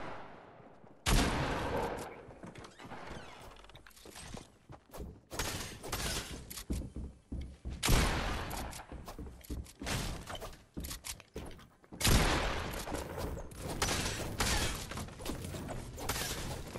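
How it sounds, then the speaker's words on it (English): Pump shotgun blasts in the Fortnite video game, with several loud, sharp shots and rapid bursts of gunfire spread across the stretch alongside other game action noise. "I hear a pump shot"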